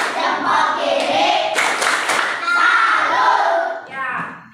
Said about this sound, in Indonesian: Ayo kita tepuk salut.